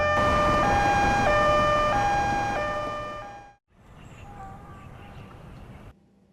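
A loud ambulance siren wails in stepped two-tone cycles, then fades out abruptly, leaving quieter background noise with a faint voice.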